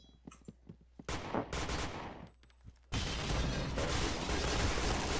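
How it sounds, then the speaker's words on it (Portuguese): Gunfire in a competitive first-person shooter video game: a few sharp shots early, then sustained loud crackling bursts of shots and rapid fire filling the latter half, with no talk. "o tiro atravessou o vidro"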